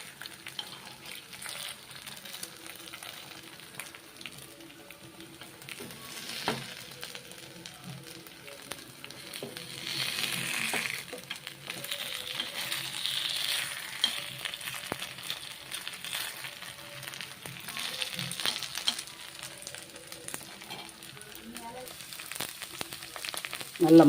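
Vegetable rava semiya kuzhi paniyaram fry in a pan. A faint, steady crackling sizzle runs throughout, with scattered clicks and scrapes as the pieces are turned.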